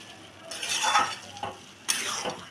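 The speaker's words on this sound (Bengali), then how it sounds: "ধনেপাতা কুচি, দিয়ে এটাকে এবার ভালো করে" Masoor dal with chopped coriander stirred in a pan, two bursts of scraping, sizzling stirring close up with a quieter pause between, no talking.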